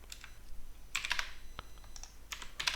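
Keys clatter on a computer keyboard in irregular bursts of quick, close clicks while someone types into an Excel search box, with short pauses between the flurries and no talking.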